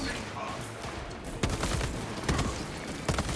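Rapid bursts of gunfire from a buffed secondary weapon in the Space Marine video game, sharp repeated shots in quick clusters over a busy, rumbling battle background.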